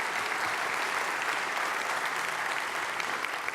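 Steady, even applause from a business keynote audience, a continuous wash of many hands clapping at moderate distance throughout with no voices.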